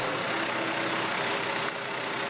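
A tractor engine runs as it delivers concrete septic rings, a steady, loud, close diesel drone that holds evenly throughout with no voices.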